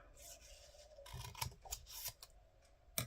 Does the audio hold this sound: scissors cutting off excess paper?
yes